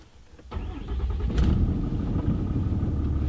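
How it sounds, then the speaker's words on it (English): A pickup truck engine cranks briefly and fires up, settling into a deep, rumbling idle that grows louder and steadier, heard close. "So starter up. It's about to sound really nice."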